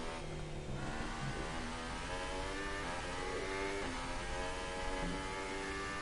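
A Formula 1 car in F1 2018 drones at a high, steady pitch through the whole stretch, its engine note sliding as it revs through corners, loud and continuous with no talk.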